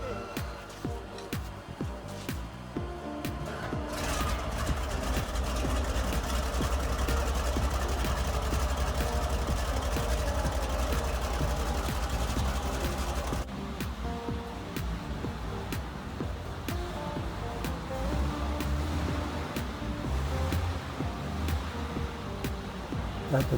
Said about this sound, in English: The first part of the video is me in the grey starting up his tank with the crank starter.